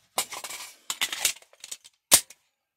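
A Glock 19 pistol magazine change from slide lock: sharp metallic clicks and clacks come in a few quick clusters, then one louder snap near the end, close up, with no talking.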